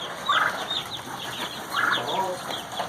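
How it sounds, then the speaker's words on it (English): Young chicks in a coop give high, bright peeps in small clustered bursts, close and fairly loud, with some rustling and flutter beneath. "we got a bunch of chicks in here"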